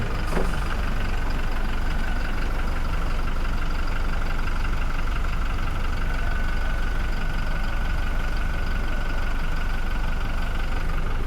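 A petrol car engine runs at a steady idle, loud and close, with an even, continuous hum and rumble and no talking.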